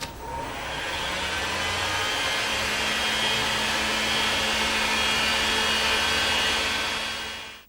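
An encaustic hot air gun set to high airflow blows a steady, loud, close whooshing roar that runs unbroken for several seconds and then cuts off.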